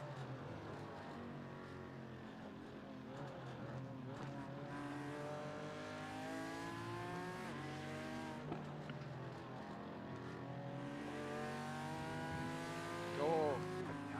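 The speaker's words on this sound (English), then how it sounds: "That's a nice sound behind us, BMW" A BMW race car engine drones steadily from behind in an iRacing endurance race at Spa, a continuous layered engine note with shifting pitch, mixed with other cars' engines and a voice talking over it.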